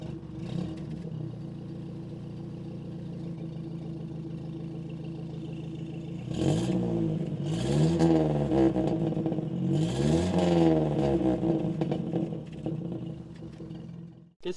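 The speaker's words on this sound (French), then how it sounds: "je mets en route la titine et c'est parti" A vintage Citroën Traction Avant's engine cranks and catches, then idles steadily before revving up several times in loud rising bursts, close by with no talk.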